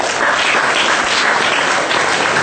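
Dense, steady applause from an audience at a Buddhist Dhamma talk, loud and continuous throughout with no speech over it.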